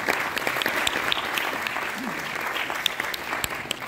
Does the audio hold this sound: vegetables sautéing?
no